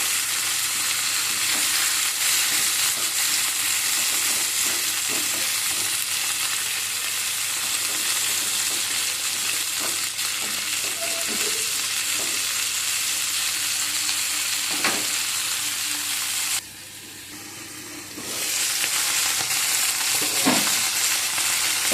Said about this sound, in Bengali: আবার আমি সব কিছুকে নাড়িয়ে ভালো করে নাড়াচাড়া করে নেব যাতে বেগুন টমেটো পেঁয়াজ সব কিছু ভালো করে ভাজা হয়ে যায়